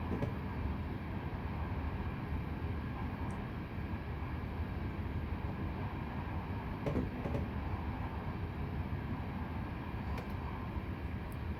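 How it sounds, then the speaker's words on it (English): A steady, loud rumble of a heavy train braking hard in Train Simulator, an Aerotrain approaching Crescent at 40 on the Pittsburgh run, with continuous grinding noise and a few faint clicks throughout. "Just a very strong train brake."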